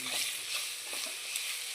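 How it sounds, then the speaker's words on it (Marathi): Chopped onion sautéing and being stirred in a pan for a potato curry, a steady soft sizzle with faint scraping stirs, close and fairly quiet, no voices. "गोल्डन ब्राऊन होईपर्यंत आपण त्यामध्ये परतून घेणार"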